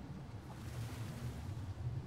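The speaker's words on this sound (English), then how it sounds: "Let's go and have a little splash in the water." Water sloshing and splashing around a Spinosaurus wading in a lake in ARK: Survival Evolved on the Aberration map, a steady low churning wash with no voices over it.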